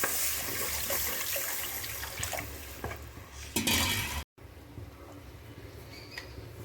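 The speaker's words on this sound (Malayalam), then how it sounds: "നമുക്കതിലേക്ക് വെള്ളം ചേർത്ത് കൊടുക്കാം." Water is poured into a pan of Kerala-style fish curry, a continuous splashing rush close by that cuts off abruptly and gives way to quieter kitchen clatter.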